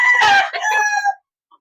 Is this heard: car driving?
no